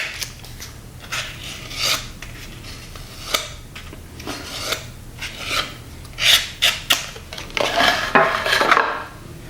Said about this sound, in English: Always make sure you go back with a scrap piece of foam and scrape off all the excess.